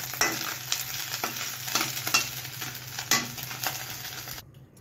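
Spiced masala sizzles and fries in hot oil in a pan for a mahurali fish curry made with curd, with steady crackling and periodic stirring scrapes, close and clear, cutting off abruptly at the end.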